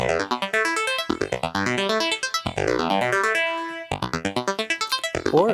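A Future Retro 512 touch keyboard arpeggiator plays rapid runs of short, plucky synth notes that sweep up and down in quick staccato patterns, with brief gaps between phrases.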